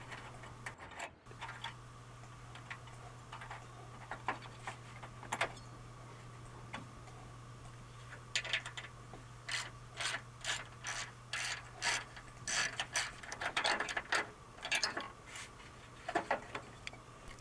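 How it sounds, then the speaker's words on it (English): 10mm socket ratchet backing out the upper radiator retaining bracket bolts on a Ford F-150 5.4L, scattered clicks at first, then quick bursts of rapid ratcheting, close and moderately quiet over a faint steady hum. "We then used the 10mm to remove the two upper retaining brackets to the radiator."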